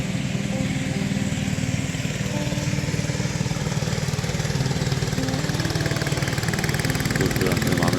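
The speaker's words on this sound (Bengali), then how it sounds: "দেখেন ট্রলারে করে মানুষজন, ছোট ছোট ট্রলার।" A small river trawler's engine runs on the Sangu River in Bandarban, Bangladesh, a loud, steady, close chugging drone that continues without a break.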